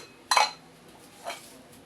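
A washed, blackened cooking pot is handled, giving one sharp metallic clank followed a second later by a softer knock, close and otherwise quiet.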